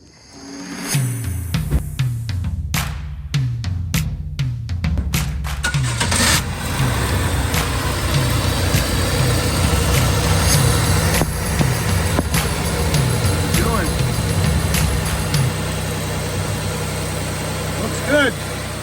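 A GM V6 car engine cranks in several short bursts, catches and settles into a steady, fairly loud idle that runs on evenly, heard close up in a home garage while its thermostat is replaced.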